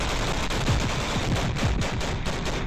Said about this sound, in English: Just look at the havoc the Bradley wreaks with its cannon.